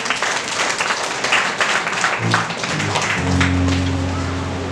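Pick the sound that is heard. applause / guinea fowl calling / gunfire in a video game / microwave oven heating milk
applause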